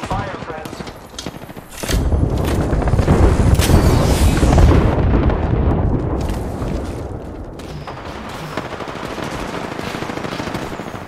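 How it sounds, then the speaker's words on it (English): Heavy automatic gunfire and booming blasts from an airstrike in the Apex Legends game, a loud dense barrage that erupts suddenly and rolls on continuously, with a game voice speaking briefly over it. "Airstrike! I am taking fire, friends."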